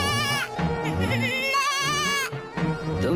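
A goat bleats repeatedly in short wavering cries, loud and close, with brief pauses between calls in a cold, snowy setting; no talking.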